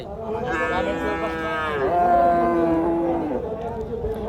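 Cows at a cattle market in Jamalpur where dairy cows are being milked give a long, drawn-out moo with a shifting pitch, heard close and fairly loud over steady background noise, with voices mixed in.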